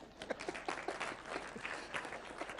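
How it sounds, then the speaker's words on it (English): An audience at an infrastructure summit at State House, Nairobi applauds the moderator with dense, sustained clapping from a crowd, fairly distant and even throughout. "Please, he asked that you clap for him"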